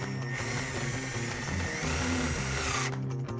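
Power drill driving fasteners to fix a mounting plate for an Ava bullet security camera to a wall, a steady whirring grind with ratcheting pulses for about three seconds that stops abruptly, close up.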